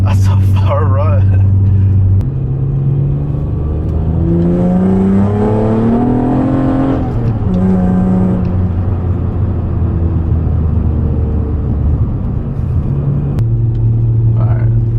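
A tuned Acura TL Type S engine drones and rumbles from inside the cabin, rising in pitch through gears as the car accelerates, then settling back to a steady low hum; someone talks over it.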